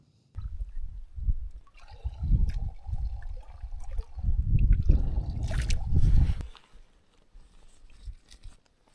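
Water is scooped from a deep moorland puddle on the way to a Peak District campsite near Grindsbrook. Close, irregular bursts of splashing and gurgling come in clumps, with quieter gaps between them.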